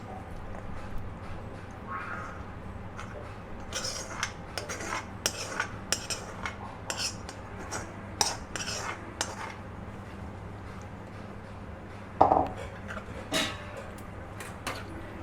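Wheat pasta being stirred into a white sauce in a pan, with a spoon clinking and scraping against the metal in soft, irregular taps over a low kitchen hum and a sharper knock near the end.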